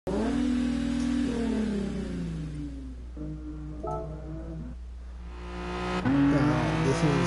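A car in the Gran Turismo Sport racing game revs and drifts, its engine note rising and falling through gear changes with faint tire squeal. The sound stays loud and continuous throughout, with no talk.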